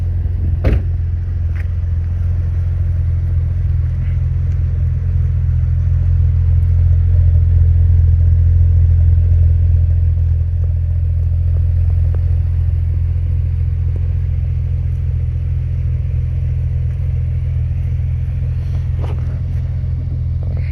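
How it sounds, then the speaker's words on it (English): A nearly 19-year-old Porsche Boxster 3.2S engine idles steadily with a deep, low exhaust rumble, continuous and even throughout, no voices. "leave the engine running for a second. So there's that beautiful exhaust note for you."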